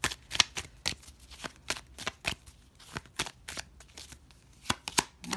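Oracle cards being shuffled by hand, a rapid series of crisp, close riffling and slapping bursts in an uneven rhythm, fairly quiet with brief gaps between strokes.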